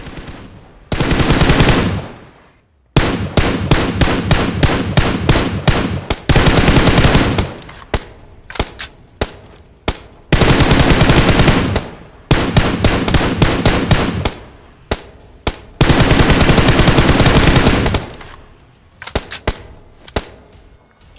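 Gunfire rings out in BGMI / PUBG Mobile near Pochinki: loud automatic weapons fire in repeated long bursts with short pauses between, plus scattered single shots, close and dominant throughout.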